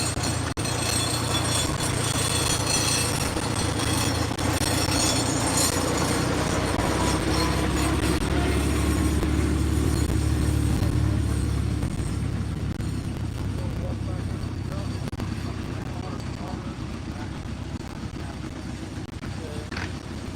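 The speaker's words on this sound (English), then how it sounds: "Something sounds a little off on that tractor." An antique tractor engine drones loud and steady at an antique tractor pull at a West Virginia farm museum, a low continuous rumble that swells midway and then eases off, with a voice talking over it and a noisy crowd around.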